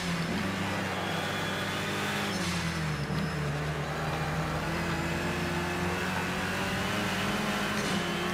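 A BMW race car engine in the racing game Project CARS 2 drones steadily at high revs, with a constant loud mechanical tone and slight pitch wavering and no pauses.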